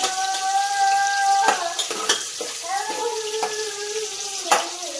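Ingredients for spinach pulao frying in a pan, a close crackling sizzle with a few sharp clicks of a utensil against metal, steady throughout, with a faint tonal hum above it.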